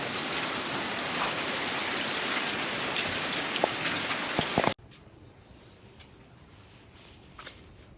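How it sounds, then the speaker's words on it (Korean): Steady rain pours down as a dense, even hiss that cuts off abruptly partway through, leaving only a much quieter patter of scattered drops afterward. "지금 또 비가 오기 시작하는데"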